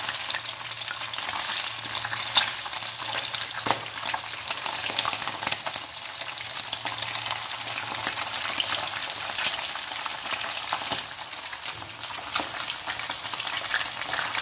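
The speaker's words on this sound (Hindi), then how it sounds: "इसी ऑयल में मैं फिश फ्राई करूंगी" Fish frying in hot olive oil in a karahi, a steady close sizzle with light crackle running unbroken for the whole stretch, with no voices over it.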